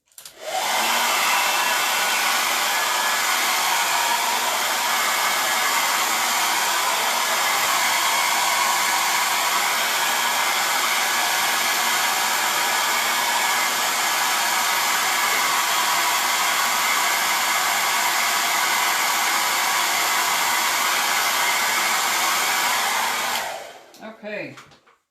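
A hair dryer blows steadily at close range for about twenty-three seconds, drying a craft piece, then cuts off abruptly near the end.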